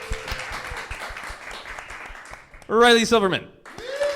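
An audience at a live podcast taping claps to vote for a quiz winner: a steady patter of applause under a spoken name, followed by a short burst of cheering voices.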